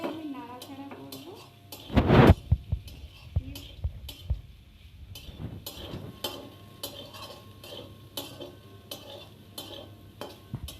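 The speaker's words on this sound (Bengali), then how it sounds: "তেলটা গরম হয়ে গেছে, আমি এগুলো দিয়ে দিলাম, দিয়ে ভালো করে আমি নাড়াচাড়া করবো।" Boiled soybeans hit hot oil with a loud burst of sizzling, followed by repeated clinks and scrapes of a spoon stirring them in the pan, with the sizzle continuing underneath.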